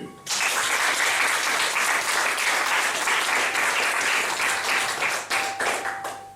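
A congregation at a church service applauds loudly and steadily for several seconds, a dense wash of many hands clapping that tapers slightly at the end.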